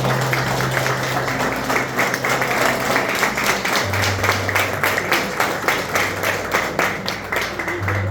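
A church congregation applauds after a scripture reading, with steady, dense clapping from many hands over a sustained low hum, continuing throughout.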